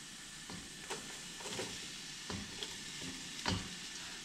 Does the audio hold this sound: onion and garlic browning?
yes